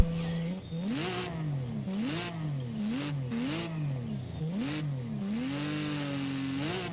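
Subaru SVX flat-six engine in Forza Horizon 5 revs up and down repeatedly, its pitch rising and falling through several throttle blips before a long sustained climb, loud and continuous with no talk.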